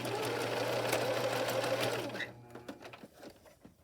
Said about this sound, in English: Going to lock my stitches in by going back and forth, removing my pins as I get to them.